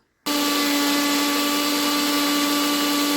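A blender grinding spice paste starts abruptly after a brief quiet moment and runs at a steady, loud, high-pitched whir, grinding continuously.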